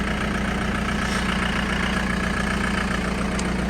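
A John Deere 448 backhoe tractor's diesel engine idles with a steady, heavy chug, continuous and close, with no obvious dip in speed.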